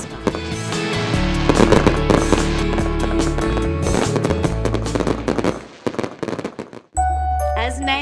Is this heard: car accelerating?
no